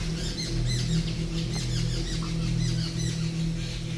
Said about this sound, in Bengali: অনেক সুন্দর উপরে পাখিগুলো ডাকছে